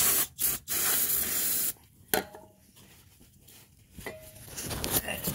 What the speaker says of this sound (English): let's be gentle, and use some brake cleaner